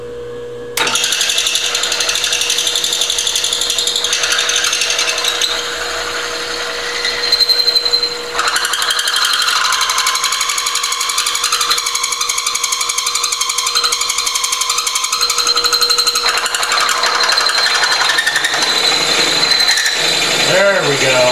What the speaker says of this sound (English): Now we're drilling